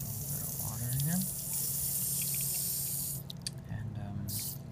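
Water running into a container outdoors in a backyard, a steady splashing pour that holds throughout with a brief louder patch near the end, and a voice speaking over the start.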